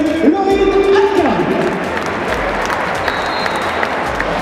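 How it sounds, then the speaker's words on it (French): Applause from a gathered audience for a female footballer at an event marking International Women's Day, a dense, steady wash of clapping with some crowd noise, while a voice speaks over the start. "On peut l'applaudir encore une fois s'il vous plaît"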